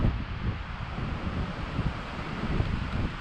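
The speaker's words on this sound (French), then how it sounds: "Plus ça va, plus le vent forcit quoi." Strong wind gusts roar steadily across the mike at a mountain bike spot in Wanaka, New Zealand, a low buffeting rush that never lets up.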